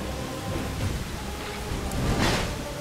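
Rain and thunder in the video game Dark Souls 2: dense, steady hiss of falling rain with a low rolling rumble of thunder swelling near the end, no voices over it.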